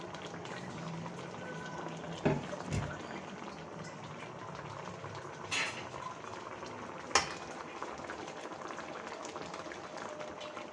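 Fried fish, prawns by the recipe, goes into a pan with onion and green chilli for a bottle gourd curry, bubbling and simmering steadily with a few sharp clatters and stirring knocks along the way.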